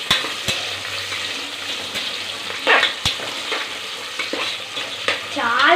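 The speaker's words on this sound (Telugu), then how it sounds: "ఇప్పుడు బాగా మిక్స్ చేసుకోవాలి" Onions and green chillies fry in a pan with a continuous sizzle, broken by sharp utensil clanks and stirring scrapes, and a faint warbling tone near the end.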